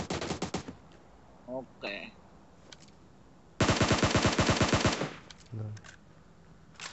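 Bursts of automatic gunfire in a video game, a short rattle early on and a longer rapid volley in the middle, with people talking between the shots.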